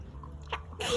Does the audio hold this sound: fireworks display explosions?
no